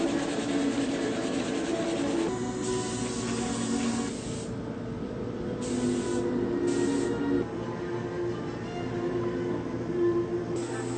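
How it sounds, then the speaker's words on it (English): Loud, steady hiss of a spray gun applying lacquer coats to an electric violin, with repeated bursts starting and stopping over several seconds. "spray it with 4 or 5 coats of lacquer"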